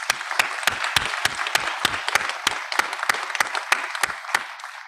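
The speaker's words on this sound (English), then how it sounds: "seniors, I think it's also well deserved for you to give your parents a round of applause" Seniors at a high school cording ceremony clap for their parents, a steady, full round of applause from a large crowd with sharp individual claps popping out, continuing for about five seconds before thinning out.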